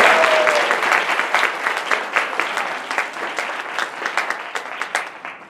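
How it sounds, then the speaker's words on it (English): Applause from an audience at a faculty and staff meeting, a dense wash of clapping that starts full and gradually thins and fades into scattered individual claps. "let's give Robert a big round of applause."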